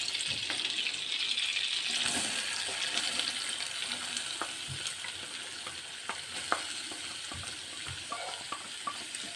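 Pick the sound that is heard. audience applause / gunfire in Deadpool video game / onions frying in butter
onions frying in butter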